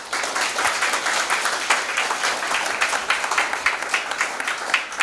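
Audience applause at an international transhumanism conference, a dense, steady wash of many hands clapping, loud and close, continuing evenly throughout with no voices over it.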